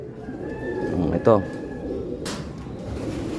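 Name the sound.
pigeon cooing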